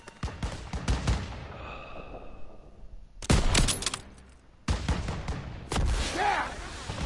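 Gunfire from the Call of Duty WWII game comes in loud bursts of rapid shots separated by short pauses, a battlefield fusillade with scattered voices underneath.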